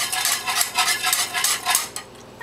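A utensil stirs a thickening apricot-orange coulis in a pan, giving rhythmic scraping and clinking strokes at a brisk, regular pace. The strokes are close and fairly loud, then stop near the end.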